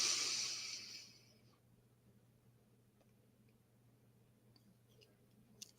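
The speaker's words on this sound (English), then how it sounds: "When you breathe in deep, it should sound something like this." A deep breath drawn in close to the microphone: a soft, airy rush lasting about a second and a half that fades into near silence.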